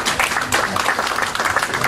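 Audience applause at an Indonesian public dialogue forum on democracy, a dense burst of clapping filling the hall for about two seconds, fairly loud and steady with a faint voice underneath.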